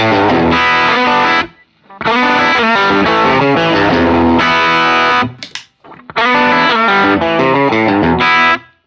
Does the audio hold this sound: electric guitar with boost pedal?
yes